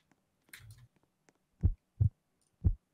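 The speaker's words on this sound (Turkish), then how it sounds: "komşu gelirken kalp sesi geliyor" Heartbeat effect in a Roblox horror game as the neighbour approaches: three deep, thudding beats, evenly spaced and fairly loud, after a faint scuff and a couple of soft clicks.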